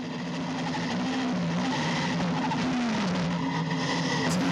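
A NASCAR race car heard on board during a 2024 NASCAR GP Spain road race, its engine droning loud and steady with wavering pitch as it struggles, apparently unable to find a gear.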